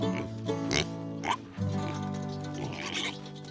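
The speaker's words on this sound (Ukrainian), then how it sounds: "Я чую. Хто це? Звісно, свинка." A pig oinks and grunts in short bursts at a farm, loud and close, with a harmonic music-like bed running beneath the calls.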